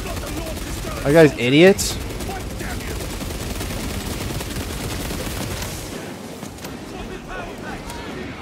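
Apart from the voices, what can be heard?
gunfire from a gun in the video game Space Marine 2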